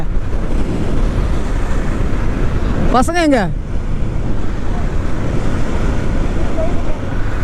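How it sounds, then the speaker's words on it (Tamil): Strong wind roars steadily against the microphone, buffeting the whole time, with a brief high whistling tone cutting through partway. "காய்ஸ் காற்று செம்மையாக அடிக்குது"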